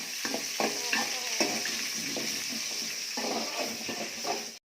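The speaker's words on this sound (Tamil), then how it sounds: "வெங்காயம் கொட்டுங்க வதக்குங்க" Onions sautéing in oil for an oily brinjal kuzhambu give a loud, close sizzle, with repeated rhythmic scrapes of a spatula stirring through the pan before the sound cuts off abruptly.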